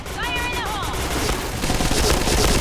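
Rapid bursts of gunfire fill a Point Blank online shooter match, loud and close, with electronic chirps at the start and someone talking over the shots.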